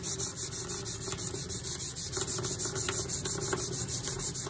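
Steady rubbing of 320 grit sandpaper over a rusty antique knife blade, even back-and-forth strokes at close range over a constant background hum, without speech.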